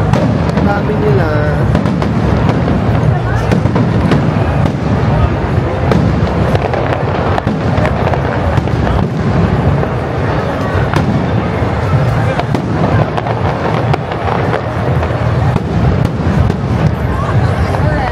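Loud, dense crackling of fireworks bursting continuously at the Calgary Stampede 2024, with rapid popping over a murmur of voices nearby.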